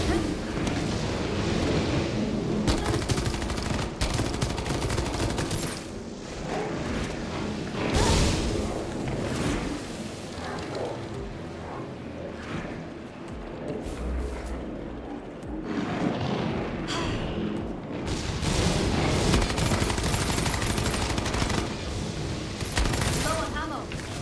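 Dense, continuous gunfire and explosions in a video game, with bursts, booms and rattling shots layered throughout at steady loudness, while a player talks over the action.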